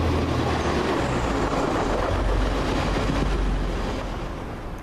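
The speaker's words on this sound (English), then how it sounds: "Comes the Transpennine service from Cleethorpes going to Manchester Airport. 185106." TransPennine class 185 unit 185106, running from Cleethorpes to Manchester Airport, roars steadily past Swinton station, a loud continuous rumble of wheels and engine that begins fading toward the end.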